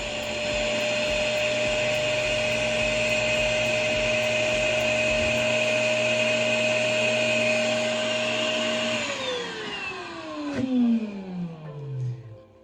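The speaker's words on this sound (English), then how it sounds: "You're gonna put the hose inside the bag, and you're gonna turn this on, and you'll take all the air out." A vacuum cleaner hose sucks the air out of a plastic storage bag packed with stuffed animals, a loud, steady whine that runs for several seconds before the motor winds down in falling pitch.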